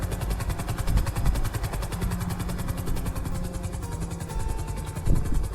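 A helicopter in the video game GTA V gives off a loud, continuous rotor thump with a rapid, even beat and a steady engine roar that never drops out.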